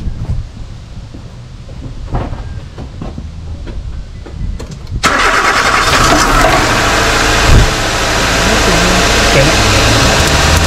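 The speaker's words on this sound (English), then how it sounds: "Now I ask my father to start up the engine" A 2004 Nissan Cube engine cranks and fires after several seconds of quiet clicks and shuffling, then settles into a loud, steady, close-up idle that fills the rest of the moment.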